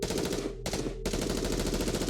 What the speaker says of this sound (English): there is sound of gunfire, and screams fill the streets